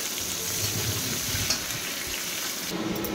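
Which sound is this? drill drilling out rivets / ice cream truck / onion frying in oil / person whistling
onion frying in oil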